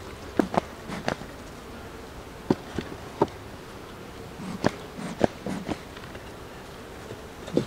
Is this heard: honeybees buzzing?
yes